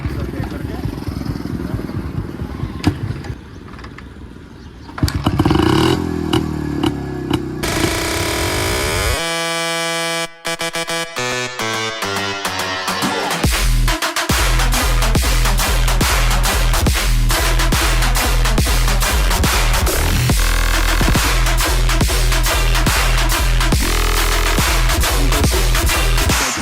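Old Jawa motorcycle single engine started up and then running steadily with a loud, rapid rhythmic thumping that fills the latter part, after shuffling and clatter at the start.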